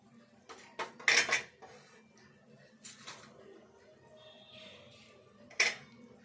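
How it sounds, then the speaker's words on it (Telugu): Several sharp metallic knocks and clinks from pounding garlic cloves in a mortar, in short bursts with quiet gaps between, close by. "ఒక 3 ఎల్లిపాయలు అయితే కొంచెము మెత్తగా కాకుండా దంచుకుందాము."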